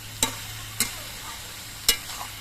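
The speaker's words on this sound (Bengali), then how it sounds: "নুন দিয়ে ঝিঙে আর আলুগুলোকে আমি বেশ কিছুক্ষণ ভেজে নিয়েছি" Ridge gourd and potato pieces with salt fry in a pan, giving a low, steady sizzle broken by three sharp clinks of a spatula stirring against the metal.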